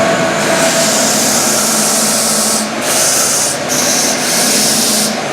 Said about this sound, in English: The only inconvenient thing about that sander is that the on-off switch is on the back.